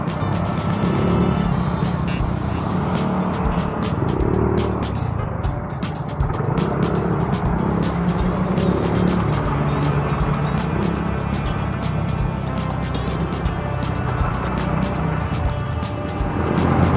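Road traffic heard from a motorcycle rider's helmet-mounted lapel microphone, a constant loud engine and road rumble with wind buffeting, vehicles droning past nearby over a steady low roar.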